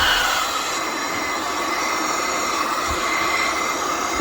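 A small blower fan in a magnetic IDEX 3D printer cooling system whirs steadily and loudly on its own, a continuous broadband rush with a faint high whine throughout.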